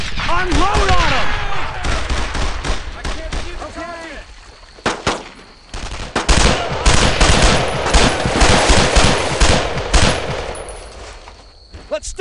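Rapid machine-gun bursts and single gunshots in the World War II shooter Brothers in Arms: Road to Hill 30, loud and continuous, with soldiers shouting over the firefight.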